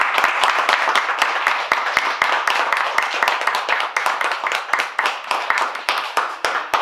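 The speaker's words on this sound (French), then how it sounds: "Je vous applaudis." Audience applauding students at a cultural presentation event, dense steady clapping with sharp individual claps standing out, sustained for several seconds at a fairly loud, close level.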